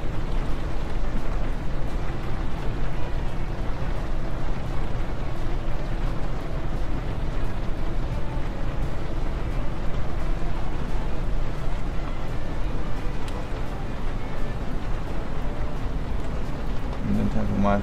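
Steady rain drumming on a truck cab in Euro Truck Simulator 2, a dense broadband wash running the whole time at even loudness, with someone talking over it throughout.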